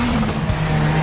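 Rally car from Dirt 4 skidding across a loose surface, a steady engine drone with a sustained tyre-slide hiss, close and loud for about a second, no voices.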